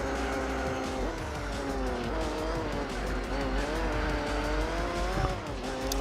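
Race cars roar around a track in Gran Turismo 4, with several engine notes rising and falling together at high revs, steady and loud throughout, plus occasional tire squeal as they jostle through corners.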